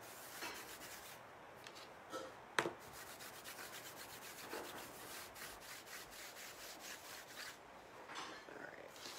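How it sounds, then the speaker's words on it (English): A light coat of surface wax rubbed by hand onto a farmhouse tile craft piece, giving soft, continuous close-up scrubbing and brushing strokes at low volume with a single brief tap partway through. "I'm just doing a light coat of wax right here."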